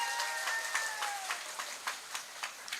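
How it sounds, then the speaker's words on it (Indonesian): Scattered audience clapping at a women's religious gathering in Indonesia, fairly faint and thinning into separate hand claps, with a sustained voice tone over the start. "Tepuk tangan dhisik ora apa-apa"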